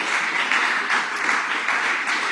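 Church congregation clapping for visiting guests at a Tuesday service, a steady wash of many hands at moderate volume, continuous and even across the short stretch with no voices standing out.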